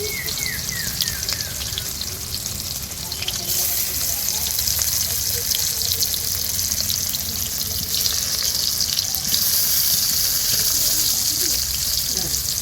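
Potatoes frying in hot oil in a home kitchen pan, a steady broadband sizzle throughout, close and fairly loud, with a brief tonal chirp early on and faint background voices underneath.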